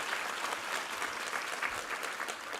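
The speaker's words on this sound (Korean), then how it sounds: "우리 하나님께 감사와 영광의 박수 올려드리겠습니다" A church congregation at a Korean Sunday service claps together in praise, a steady, even wash of applause filling the hall from start to finish at a moderate distance.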